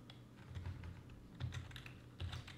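Keys on a computer keyboard clack softly as a command is entered while configuring a Cisco switch, a quiet run of close taps with a few heavier strokes.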